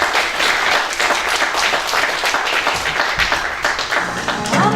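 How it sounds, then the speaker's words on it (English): Audience applause after a jazz trio's performance at a film presentation event, loud continuous clapping from a sizable crowd with sharp individual claps and faint voices mixed in. "Give them an applause, please."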